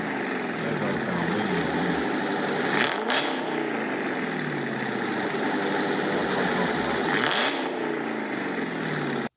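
Chrysler 300C exhaust note, a steady deep engine drone that holds near and loud throughout, with two brief brighter rasps on top, no talk over it.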